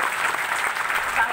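An audience at a university event in Indore claps together, a dense burst of applause that holds steady for its short length with no talk over it.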